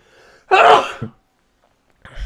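A single loud, close sneeze bursts out with a sharp intake and explosive release, trailing off into near silence before a brief rustle.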